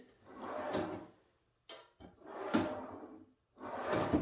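An Uplift V2 standing desk drawer slides open smoothly three times, each a broad rolling glide lasting about a second, close and fairly loud, with short quiet gaps and a small click between pulls.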